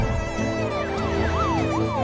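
An ambulance siren wails in repeated rising and falling sweeps, mixed under dense background music with a steady low rumble throughout.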